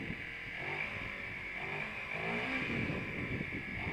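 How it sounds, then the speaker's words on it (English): Close, loud revving from a 2012 Kawasaki Ninja 250R motorcycle with its intake snorkel removed. The engine note climbs and falls in several throttle blips over a steady idle, and no one speaks. "that's how a Ninja 250 sounds like without the snorkel on"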